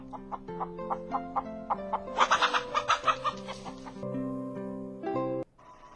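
Former battery laying hens cluck in a steady run of short, rhythmic calls, rising into a busier burst of overlapping clucks before settling into a sustained low call, fairly close and clear.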